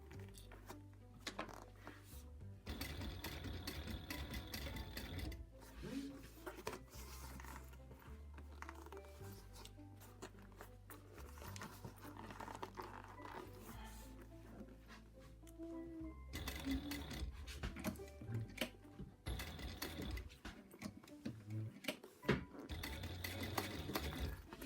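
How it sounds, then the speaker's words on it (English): A domestic sewing machine stitching through fabric layers, including a thick gusset, runs in several bursts of fast mechanical chatter of varying length, with short pauses between runs and faint handling noise. "I sewed through the gusset, the part that I shouldn't have been able to sew through."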